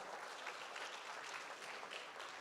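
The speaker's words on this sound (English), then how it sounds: "Big round of applause to all the generous people that have given at 15." Guests at a Make-A-Wish Idaho charity auction gala applaud the donors, a faint, distant wash of steady clapping that holds evenly throughout.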